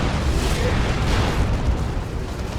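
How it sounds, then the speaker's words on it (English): A rocket run strike lands in a Dawn of War 2 multiplayer match, a dense rumbling barrage of explosions that rolls on without a break, loud and heavy from start to finish. "That's a rocket run."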